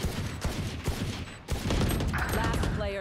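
Rapid automatic gunfire with heavy recoil in the video game Valorant, a fast string of close, punchy shots with brief gaps, followed by a loud burst and mechanical weapon sounds; a voice talks over it.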